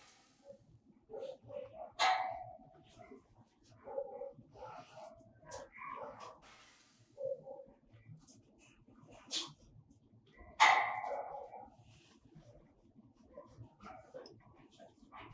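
A dog being offered a holiday meal gives soft whimpers and a few short, sharp yips and barks at intervals, close by in a quiet room, with faint background noise between the sounds.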